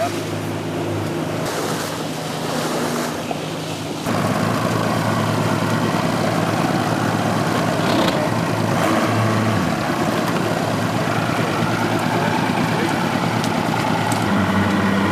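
A motorboat tows Hobie catamarans across calm water at a Philippine Hobie regatta, its engine giving a loud, steady drone over continuous wash and splashing.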